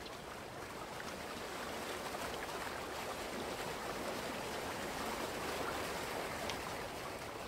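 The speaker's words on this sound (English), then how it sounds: "this little stream here is nice. The water effect there as it goes all the way down." Flowing stream water in the video game Farming Simulator 19, a steady broadband rush running evenly and continuously at moderate level with no talk over it.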